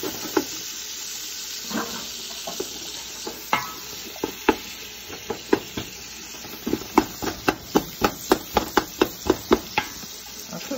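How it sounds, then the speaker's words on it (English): Onions sauteing in hot bacon grease for southern collard greens, a steady sizzle broken by a run of sharp scraping stirs that grow faster and more regular toward the end. "I'm gonna go ahead and saute up my onions and my bacon grease that's going in here."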